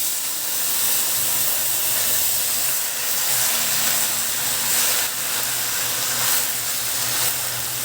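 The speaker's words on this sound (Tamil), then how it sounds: "இப்போ இந்த நேரத்தில் நம்ம கழுவி சுத்தம் பண்ணி வச்சுருக்கிற புளிச்சக்கீரையை சேர்த்துடலாம்" Washed gongura (sorrel) leaves dropped into a hot pan for Andhra-style gongura chicken biryani, giving a steady, close, even sizzling hiss that carries through without pause and with no voices.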